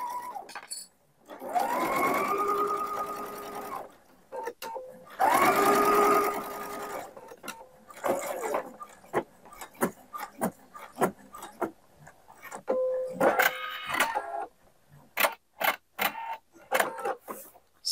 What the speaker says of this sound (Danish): jeg syr på lommeklappen